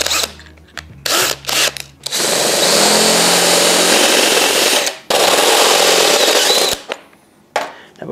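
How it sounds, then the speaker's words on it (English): A power drill runs a step bit through pilot holes in a rear fender for a Honda Shadow bobber, with a few short stuttering bursts first, then two long, loud, steady grinding runs close by. "You're gonna bust out that step bit."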